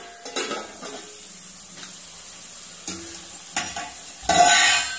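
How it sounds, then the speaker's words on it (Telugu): Peas, onion and green chillies frying in a little oil in a covered pan, giving a soft sizzle with scattered stirring scrapes and utensil clinks, then a sharper, louder burst of sizzling near the end, with no talking. "కొంచెం నూనెలో ఫ్రై అయ్యేంతసేపు మూత పెట్టి ఫ్రై చేసుకుందాం."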